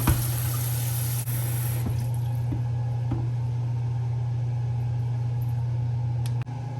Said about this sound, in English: Then I'm going to go ahead and get some water.